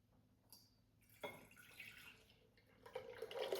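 Water poured into a 32-ounce jar, a faint, quiet splashing and trickling that starts up and swells toward the end, with no voices over it.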